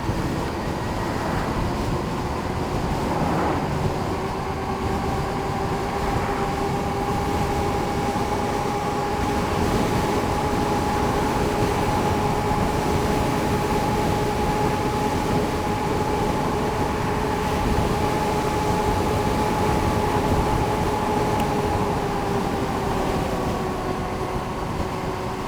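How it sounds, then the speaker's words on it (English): Wind rushes steadily into the microphone while riding an ebike, producing continuous loud buffeting noise with a faint sustained motor whine underneath and no talking. "that wind is whipping right into my face"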